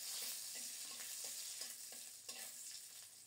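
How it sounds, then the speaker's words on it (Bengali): Nigella seeds and chopped green chillies fry in hot mustard oil with a steady broad sizzle, and soft stirring scrapes pulse through it at a regular pace, close by with no talking. "তেল গরম হলে কালো জিরা ফোড়নে দিয়ে দুইটা কাঁচামরিচ কুচিয়ে দিলাম।"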